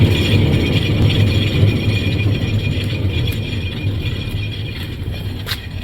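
A failing rear wheel bearing on a car rumbles deep and steady as the wheel spins roughly, with a fainter high-pitched scraping running over it. The noise is continuous and close, with no talk.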